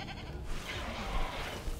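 A goat bleats in the video game Jurassic World Evolution. The wavering bleat is faint and short and sits under a soft, steady game ambience.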